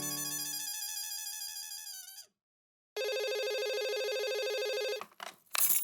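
A phone in a Hindi TV sitcom rings loudly with a bright electronic ringtone, sounding for about two seconds, pausing, then ringing again before cutting off into a brief rustle.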